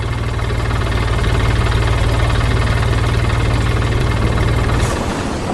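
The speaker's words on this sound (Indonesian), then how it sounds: "Mesin berwarna kuning sedang bekerja dengan gergaji." A yellow machine works with a saw in an animated scene, giving a loud steady mechanical drone with a fast rhythmic chug that runs continuously, then cuts off abruptly near the end.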